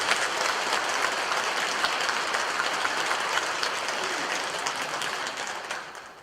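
A church congregation of several hundred applauding inside the sanctuary, a loud, dense and sustained roar of clapping that fades slightly at the very end.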